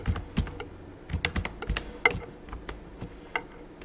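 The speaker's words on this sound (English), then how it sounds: "now I can type here" Close, light typing on a computer keyboard, an irregular run of quiet key clicks over about four seconds, alone with no voice.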